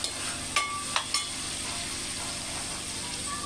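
Tomato and onion frying in a pan with salt, a soft continuous sizzle close by with a few brief scraping stirs near the start, no talk.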